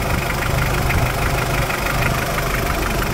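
A Mitsubishi Pajero Sport's 4D56 diesel engine runs steadily at idle, heard close up as a loud, continuous rough rumble with a slight knocking texture and no talk.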